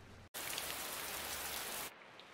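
Heavy rain pours down in a dense, loud, steady hiss that starts abruptly after a brief gap and cuts back to a softer patter near the end, with no voices.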